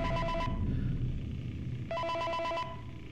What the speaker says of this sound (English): Listen to the phone call.